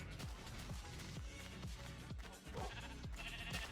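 Sheep bleating in Minecraft (Betacraft), repeated short wavering calls over a dense, continuous game soundtrack with no talk.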